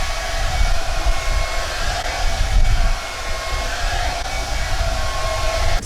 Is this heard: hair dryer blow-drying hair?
yes